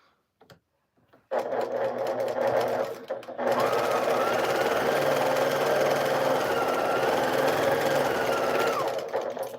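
Baby Lock sewing machine stitching a quilt, running loud and close in a steady mechanical whir after a couple of brief starts, holding a constant pace until it winds down.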